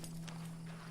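Horse hooves clip-clop briefly in a quick, light patter over a steady low hum, soft and fairly distant, in the video game Red Dead Online.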